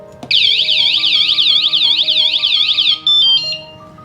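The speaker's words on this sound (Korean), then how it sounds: "이렇게 한번 건드리면 1차 경고가 들리고요" A loud, piercing bicycle anti-theft alarm warbles rapidly up and down for about three seconds as its first warning, then ends with a few short chirps.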